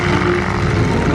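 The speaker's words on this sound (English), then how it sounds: "Reenacting the training missions from World War II as they taxi out." Propeller engines of World War II training airplanes taxiing out at an airshow, a steady loud drone with a continuous hum filling the whole clip, no voices.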